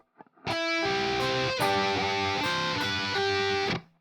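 Heavily distorted electric guitar plays a short measure from a song, loud sustained chords and bent notes ringing steadily for about three seconds before cutting off.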